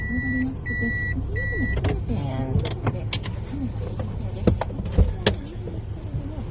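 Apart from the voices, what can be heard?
inside a moving car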